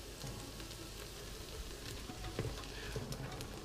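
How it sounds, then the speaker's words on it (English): Diced delicata squash and vegetables saute gently in a pan, a soft, even sizzle held low and close throughout, with no voices. "we got this stuff sauteing here"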